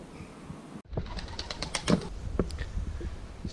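Pigeons flapping their wings inside the ruins of Rhuddlan Castle in Wales, a dense run of quick, clattering wingbeats starting abruptly after a brief quiet moment and continuing close by with a few sharper flaps.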